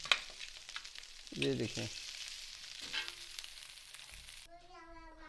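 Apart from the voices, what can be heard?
rice frying and being stirred in a pan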